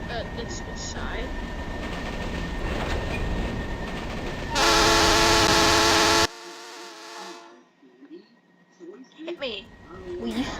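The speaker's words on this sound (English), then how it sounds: "So we got the train going on" A train rolls past in a video game, a steady rumbling rush with a loud horn-like tone blaring briefly before cutting out, followed by quieter clatter while voices talk over it.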